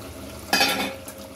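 A quick stir of fried potatoes dropped into a pot of simmering food, a brief scraping and sizzling burst that fades into a soft bubbling background.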